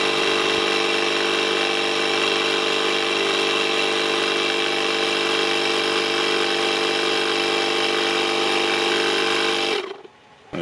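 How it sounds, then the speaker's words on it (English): A Yokaro portable air compressor runs while inflating a car tire, giving a loud, steady, close mechanical drone with a buzzing whine that holds for about ten seconds before cutting off abruptly at auto shutoff. "The compressor will shut off automatically once it reaches the PSI you inputted."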